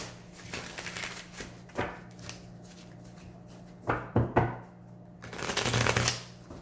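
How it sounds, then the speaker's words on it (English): Playing cards are shuffled by hand in several short riffling bursts, close and crisp, with pauses between and a longer shuffle near the end. "let me just shuffle again"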